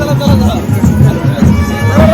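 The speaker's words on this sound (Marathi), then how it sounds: "आता खरंच जल्लोष चाललाय आमच्या आई माऊलीच्या पालखीसाठी बघू शकता." Festive crowd noise at a village palanquin procession for a goddess, a dense babble of many voices close by with rhythmic low pulses, continuous and loud.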